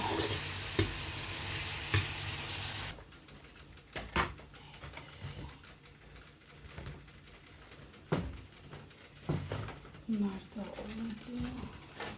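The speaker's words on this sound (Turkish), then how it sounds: "Cızırtı sesleri geliyor." Bread sizzling and crackling in a hot pan, with occasional sharp clatters of stirring and a louder burst of frying at the start.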